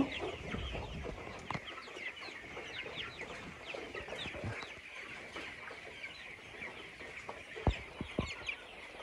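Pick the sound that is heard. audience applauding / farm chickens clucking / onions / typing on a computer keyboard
farm chickens clucking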